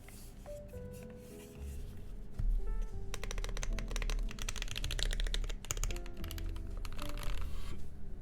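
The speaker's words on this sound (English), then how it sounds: "All right, let's try typing on this." Fast, continuous typing on a TMO50 Founders Edition mechanical keyboard, a dense run of close, crisp key clicks with no speech over it.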